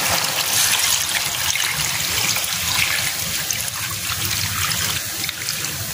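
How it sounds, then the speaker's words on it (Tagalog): Coconut cream pours into a simmering crab and vegetable stew, giving a steady liquid trickle and splash that runs unbroken for several seconds, close and fairly loud. "Ang lagyan na natin yung ating kakanggata."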